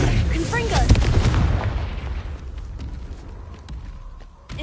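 A Confringo blast spell explodes in Hogwarts Legacy with a loud booming burst that rumbles and fades, dense crackling debris in the first half.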